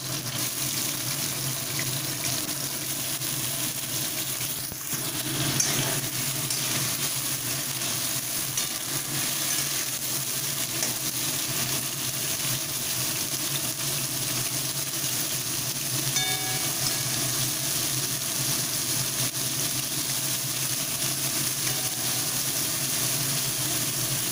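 Pointed gourd and potato strips, cut long and salted, fry in hot oil, giving a steady, soft sizzling hiss that runs evenly throughout with faint bubbling and no voices.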